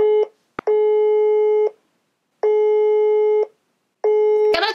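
A telephone call sounds in the earpiece with long repeated tones, three clear beeps separated by silences, loud and close, followed by a brief rustle at the end.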